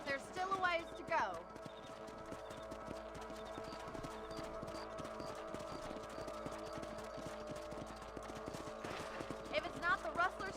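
Hooves clip-clop in a steady trotting rhythm as horses are ridden across a ranch property in Red Dead Redemption, faint and continuous, with a brief whinny near the start and people talking over it.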